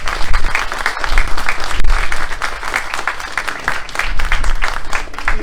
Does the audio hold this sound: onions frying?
no